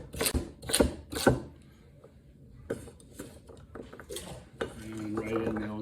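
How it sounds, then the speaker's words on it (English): Knife chopping vegetables roughly for chicken noodle soup in a Dutch oven kitchen, a few sharp close cuts on a board early, then scattered clatter and handling. "And a nice rough chop."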